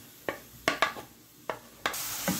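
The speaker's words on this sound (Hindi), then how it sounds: "4 टेबलस्पून हम कुकिंग ऑयल डालेंगे पैन में, और इसमें हम वेजिटेबल अब डालेंगे।" Vegetables frying in cooking oil in a pan for chicken wontons: quiet sizzling broken by about half a dozen sharp, close stirring scrapes and clinks at uneven intervals.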